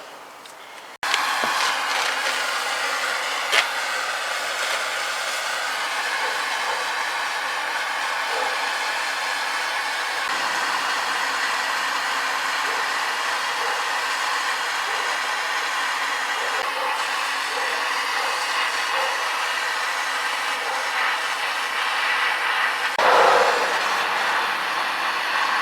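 A flame from a gas bottle torch heats the rear seat of a 1948 Ford sedan. The torch gives a loud, steady roaring hiss that starts suddenly and holds throughout, with no talking.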